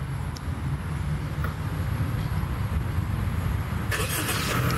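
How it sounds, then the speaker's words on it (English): A 2020 Honda City engine, started by remote start while the car is locked, idles with a steady low rumble, then a brief burst of higher hiss near the end. "Now this is remote engine start."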